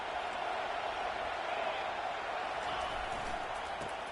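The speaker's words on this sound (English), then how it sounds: "Here comes the crowd now, trying to help this defense out." Stadium crowd in a college football video game, Oklahoma at USC, a broad sustained roar of cheering fans, steady and fairly loud with no distinct breaks.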